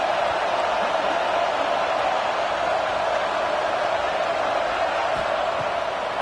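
A stadium crowd in the College Football 26 video game roars in a steady, loud, unbroken wash of noise that holds evenly throughout with no clear peaks.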